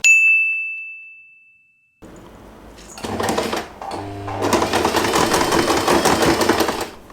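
A bell-like ding fades away, then a sewing machine stitches fabric for a scrunchie in short fast bursts. It stops briefly and then runs steadily close by until the end.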